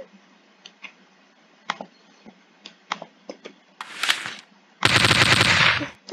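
Machine pistol fire in a shooting game: scattered faint clicks and single shots, a short hissing burst, then a loud, rapid close automatic burst lasting about a second and a half.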